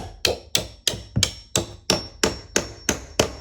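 A door hinge pin is tapped back down into its hinge with a hammer. About ten sharp metallic taps come at a steady, even pace, each ringing briefly, close and clear with no talking.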